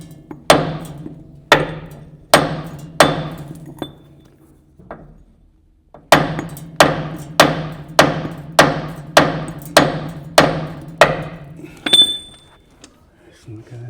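A metal hammer strikes the end of a threaded bar during a 1941 Ford truck flathead V8 restoration, giving about sixteen sharp, ringing metallic blows in two steady runs separated by a short pause.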